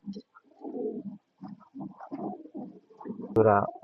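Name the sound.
white King pigeons cooing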